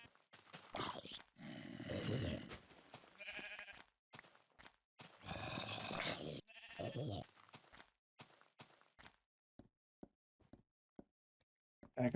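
Sheep in the Minecraft video game bleat in several loud, close bursts during the first seven seconds, then the clip drops to quiet scattered clicks and faint game sounds.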